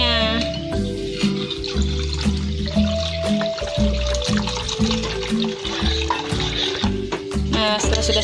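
Water splashes and pours into a mixture for old-fashioned Indonesian ice pops, a close, continuous gurgling fill that trickles on for several seconds.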